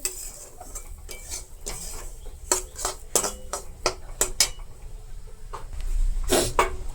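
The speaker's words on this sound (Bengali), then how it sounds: "এখন আমি সুজিটা দিয়ে দিলাম এখন নাড়াচাড়া করব" A utensil clanks and scrapes against a pan as semolina is stirred, with quick irregular metallic knocks over a low kitchen background and no talking.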